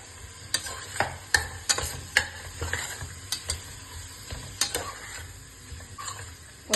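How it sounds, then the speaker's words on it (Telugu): Onion pieces and green chillies fry in a pan for vegetable biryani, a steady sizzle broken by sharp clicks and scrapes of a stirring spoon at irregular intervals, close and alone. "ఉల్లిపాయ ముక్కలు, పచ్చిమిర్చి వేసుకుని బాగా వేయించుకోవాలి."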